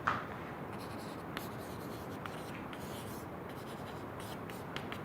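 Faint, continuous scratching of a pen or chalk writing during a mathematics lecture, soft scraping strokes with small taps, quiet throughout.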